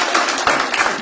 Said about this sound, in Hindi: एक बार जोरदार ताली हो जाए आपके लिए भी।